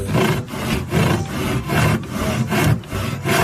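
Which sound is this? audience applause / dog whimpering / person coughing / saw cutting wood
saw cutting wood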